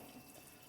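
Water runs steadily from a tap into a container being filled for laundry, a continuous soft rushing hiss, faint and unbroken, with no voices.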